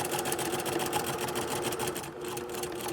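A sewing machine runs continuously at steady speed, stitching a long basting seam with a 5 mm stitch length at a 3/4 inch seam allowance, its rapid needle rhythm close and loud with no pauses.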